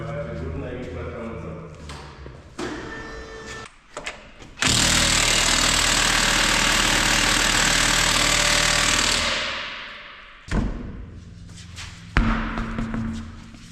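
Loud, steady mechanical rattle of an impact wrench removing a wheel from a Honda Accord 7 2.4 Type S, running for several seconds, with shorter bursts and clanks before and after, close by in a workshop.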